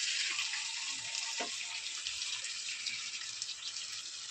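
Tap water runs steadily into a sink while raw chicken is being washed, a constant faint hiss with small splashes and no voices.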